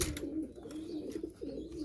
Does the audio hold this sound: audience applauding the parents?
no